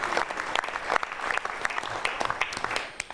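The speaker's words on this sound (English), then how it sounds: "So let's have a round of applause for all the birthdays." A room full of people claps for the birthday celebrants, steady mid-distance applause with scattered sharper claps, fading slightly toward the end.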